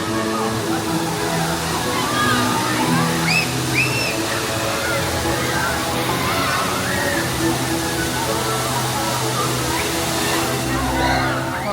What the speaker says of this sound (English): I love this wave swing with the fountains over.